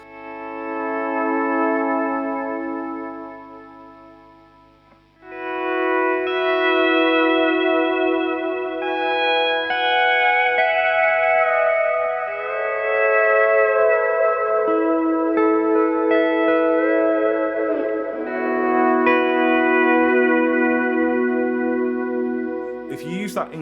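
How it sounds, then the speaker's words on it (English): A pedal steel guitar plays long, sustained chords run through a much bigger reverb and a long delay, notes gliding and swelling into washy echoes after a brief pause, loud and close with no talking. "So the ambient sound I go for is like a much bigger reverb"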